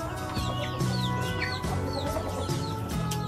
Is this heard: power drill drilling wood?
no